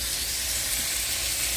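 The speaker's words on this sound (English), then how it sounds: "I'll probably fry up two batches of this okra" Steady, close sizzling of okra frying in hot oil, a continuous bright hiss with faint bubbling underneath.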